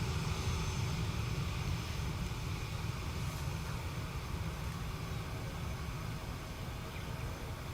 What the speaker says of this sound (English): A321neo from Venice.